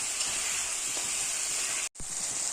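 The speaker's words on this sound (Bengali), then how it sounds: "দেখো বন্ধুরা, মশলাটা কিন্তু আমি ভাজা করে নিলাম।" Ground cumin, chilli and turmeric paste with salt sizzles in a pan with a constant, close hiss, broken by one brief cut to silence near the end before the sizzle resumes.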